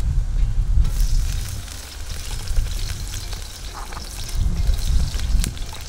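Minced garlic sizzling in a pan of hot canola oil, a steady close frying crackle with a low bubbling rumble and no voices, for a cheap ground-meat dinner.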